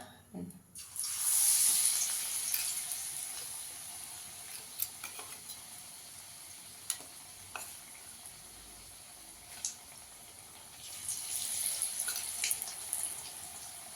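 Soya chunks coated in gram flour batter drop into hot oil in a kadai, bursting into a bright sizzle, then settling into a quieter bubbling fry with scattered pops and a renewed surge near the end.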